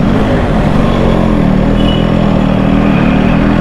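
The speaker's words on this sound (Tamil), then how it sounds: "லைட்டாக ஸ்லாபிங் நாய்ஸ் வருது," A two-stroke motorcycle engine runs steadily and loudly up close, holding an even idle-like drone with a slight slapping noise in its mechanical note.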